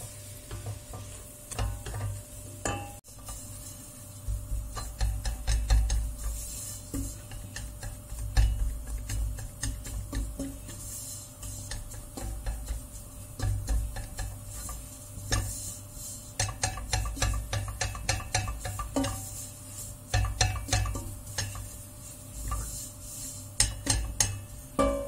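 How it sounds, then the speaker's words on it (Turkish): Flour roasts in melted butter in a pan under constant stirring, giving a soft continuous sizzle broken by frequent scraping and light clicking of the utensil against the pan, with no talk. "Sürekli karıştırarak yakmadan unu burada kavuruyoruz"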